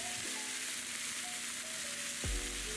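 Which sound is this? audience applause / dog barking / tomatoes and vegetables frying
tomatoes and vegetables frying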